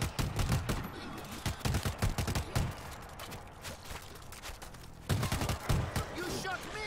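Repeated gunfire bursts in the zombie shooter World War Z, loud and close, with rapid clustered shots, a lull midway, then fresh volleys near the end.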